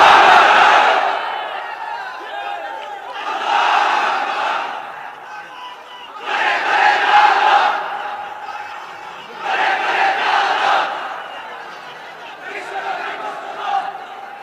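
A large crowd at a religious sermon shouts takbir, Allahu Akbar, in five loud, roaring collective calls, each swelling and fading in turn, close and dominant over a quiet hall.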